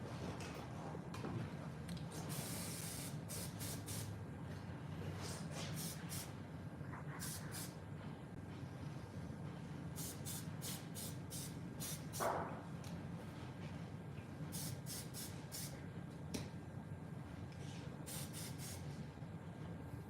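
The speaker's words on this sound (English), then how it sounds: "hairspray." A barber sprays hairspray onto a client's hair during a live-streamed cut, giving several short hissing bursts in quick clusters over a constant low background hum, fairly faint and without talking.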